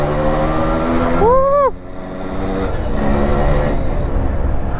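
A Yamaha RX100 two-stroke motorcycle engine runs steadily with a rough, buzzing drone, briefly joined by a rising whine, then settles back into a constant rumble, in rain.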